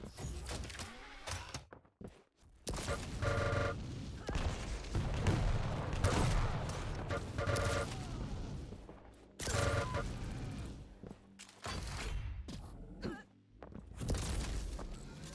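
Repeated railgun shots in a Quake match, several sharp metallic bursts with electronic ringing tones spaced through the stretch, moderately loud amid other game action.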